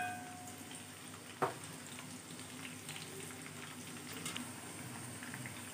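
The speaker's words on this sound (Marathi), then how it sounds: "आता ह्या तेलामध्ये मी मिरची तळून घेणार आहे." Green chillies frying in oil for poha chivda, a soft steady crackling sizzle throughout with one sharp clink near the start, quiet and close with no speech.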